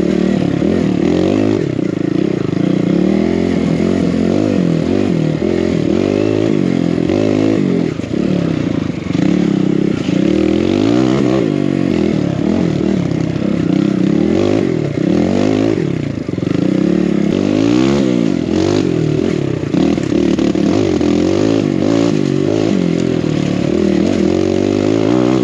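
A new 2023 Husqvarna TE300i dirt bike rides rocky trails, its engine droning steadily and revving up and down close by, with clattering and scraping from the terrain throughout.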